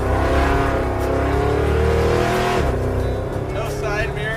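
A Roadkill project car with driveshaft vibration, no side mirror and barely working brakes accelerates onto a freeway, its engine droning loud and steady inside the cabin, pitch climbing and shifting partway through, with voices over the noise.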